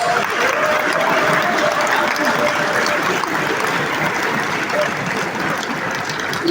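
An audience at a Lagos real estate conference claps in a sustained, even roar of applause, a continuous wash of many hands with a faint tone running through it early on.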